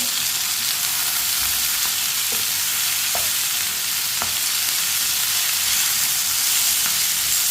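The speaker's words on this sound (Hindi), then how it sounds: "टमाटर को भी 1 मिनट के लिए पका लेंगे।" Chopped tomatoes and large-cut green chilies fry in a pan for bitter gourd and potato curry, giving a loud, constant hiss of oil with a few faint spatula taps.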